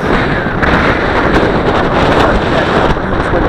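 Strong wind roars steadily against the microphone during a windy-day Xinxun X50 drone flight, a loud continuous rumbling whoosh with no talking.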